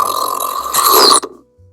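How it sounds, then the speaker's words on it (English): Lightsaber sound font inspired by an electrified riot shock baton, playing its short post-off effect after power down: a loud, buzzy electronic burst lasting about a second, then a quick fade to near silence. "the little audio files that play that little noise after the power down"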